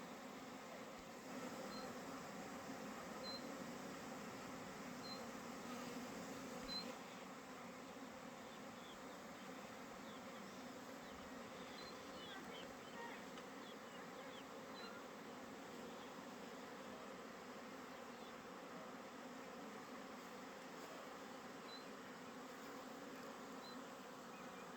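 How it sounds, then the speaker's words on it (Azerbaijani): Honeybees returning to the hive in the evening after rain: a continuous, even buzzing swarm drone lasting the whole span, fairly soft and steady, with no voices. "axşam üstüdür, yağış gəldiyin arı çəkilir yavaş-yavaş. Yığılır yerinə."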